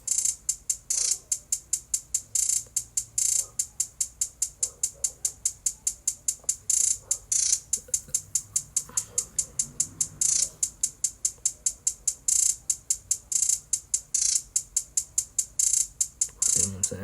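Hi-hat beat programmed in FL Studio, crisp rapid metallic ticks in a steady repeating pattern with brief accented bursts, loud and alone for the whole stretch, a low bass thump entering at the very end.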